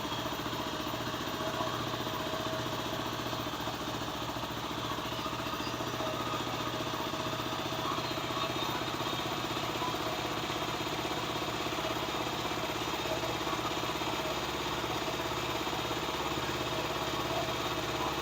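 A Kawasaki KLR 250 motorcycle engine, freshly fitted with a rebuilt carburetor, idles steadily with an even, low mechanical thrum, fairly quiet and unbroken with no one talking.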